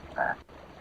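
A single short frog croak in the 1997 Frogger video game, a brief, buzzy tone over quiet game background.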